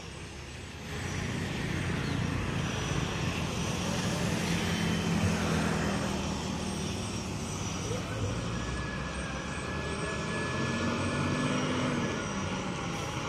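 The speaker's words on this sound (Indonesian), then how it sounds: "Ini Hino AK lor, Hino yang mesin depan." A front-engine Hino AK coach bus with Tentrem Max HD bodywork rolls past at a Muara Bungo bus terminal, its broad diesel rumble and road noise steady and fairly loud throughout, with faint voices in the background.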